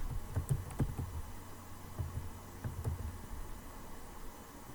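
Someone types on a computer keyboard while working in Photoshop, making a few soft, irregular key clicks close by over a low background hum.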